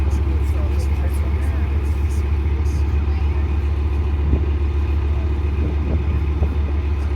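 An M60 tank's engine running at a regimental museum, a loud, constant low rumble close by with faint knocks and clanks on top, steady throughout.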